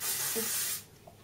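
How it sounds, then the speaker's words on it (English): Volumising hair spray is released in one steady, close hiss from an aerosol can onto hair. It lasts under a second and then cuts off into quiet. "Kind of spray it onto your hair, not too close to your hair"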